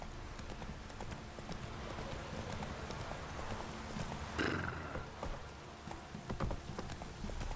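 Roach the horse galloping through a downpour in a video game, with fast, steady hoofbeats under rain noise and a brief whinny near the middle.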